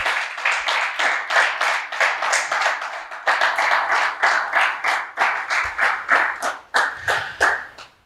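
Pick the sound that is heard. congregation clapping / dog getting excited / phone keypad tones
congregation clapping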